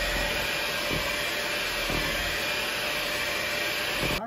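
An electric mixer whirs continuously at close range, blending pure Mexican vanilla extract into pound cake batter, a steady loud motor drone with faint periodic bumps and no talking.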